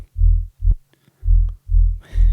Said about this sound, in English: Dual oscillator distortion injected.